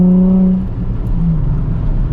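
Nissan 350Z with a muffler-delete exhaust, a low steady drone heard from inside the car; a brief tonal hum fades early, leaving a smooth rumbling exhaust tone with road noise.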